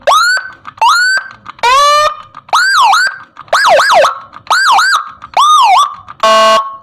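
A Whelen G2 siren module cycles through short horn-like electronic tones, rising and falling whoops in a quick regular series with a brief harsh buzz at the end, loud and close with no voices.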